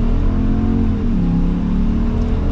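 A Ram 2500 heavy-duty pickup with the 6.4 Hemi V8 accelerates at full throttle, its loud, steady engine roar rising slightly in pitch as it pulls hard, heard from inside the cab with no voices.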